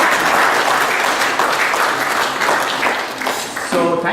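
An audience at the High Commission of India in London claps for the Indian Olympic athletes with loud, dense, sustained applause that fades slightly at the end, where a voice begins speaking.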